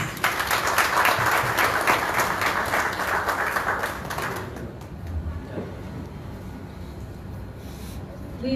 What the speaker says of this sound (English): Please join me in the welcoming them with a round of applause.